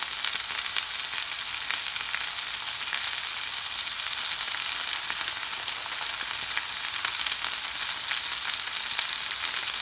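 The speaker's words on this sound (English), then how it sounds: "I'm just gonna give it a little stir to get all the seasonings incorporated" Sautéed potatoes and onions sizzling steadily in a hot pan while being stirred, a continuous close hiss of frying with faint scraping, no talking.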